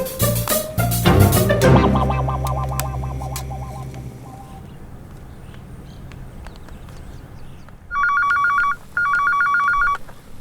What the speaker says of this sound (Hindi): प्रीता, मना किया था ना फोन उठाने के लिए